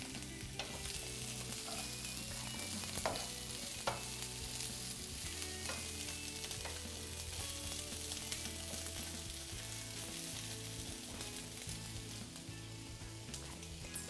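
Vegetables with soy sauce sizzling and frying in a pan over low heat for a vegetarian stir fry, a steady continuous crackle with occasional soft clinks of stirring, no talking.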